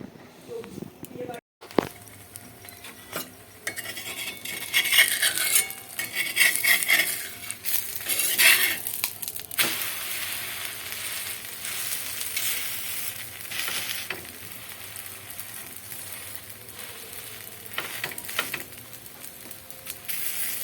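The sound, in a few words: frying paratha in oil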